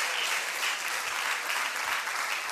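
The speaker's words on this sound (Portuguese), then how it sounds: "Dá uma salva de palmas para esses moços bonitos aqui." Dense, steady applause from a church congregation in appreciation of actors at a Sunday service, filling the space continuously with no talk over it.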